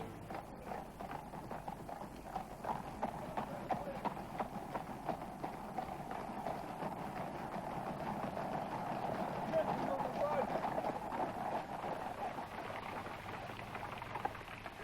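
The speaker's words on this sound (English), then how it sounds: "they are followed by a closed carriage in which travels unseen Her bereaved Majesty Queen Mary" Horses' hooves clip-clop steadily as they draw a closed carriage in a royal funeral procession for the King, a soft, even patter of many hooves on the road, moderately distant, under a solemn narrating voice.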